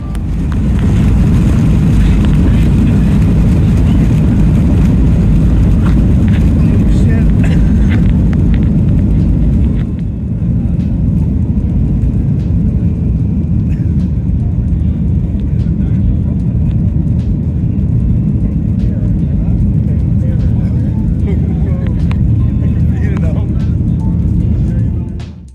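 Airliner cabin during a landing approach into Spain: a steady, loud low roar of engines and airflow fills the whole stretch, shifting slightly partway through, with no clear talk over it.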